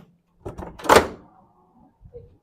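A heavy door fitted with an automatic opener is yanked open, giving a few close thuds and a loud clunk, then a faint mechanical rattle in an otherwise quiet room.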